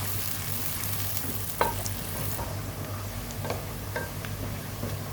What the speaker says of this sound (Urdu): میں نے یہاں پہ آدھا کپ آئل اور شامل کیا تاکہ یہ پیاز اچھے سے براؤن ہو جائے